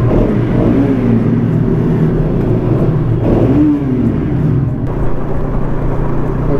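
A Kawasaki ZX-10R superbike engine revs close by, rising and falling in two throttle blips over a steady rumbling idle, loud and without talk.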